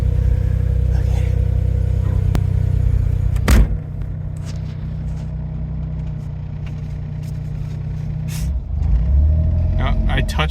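Autozam AZ-1 kei car running a Keisport ECU, heard from the cabin as a steady low engine drone with two short throttle blips that briefly lift the revs.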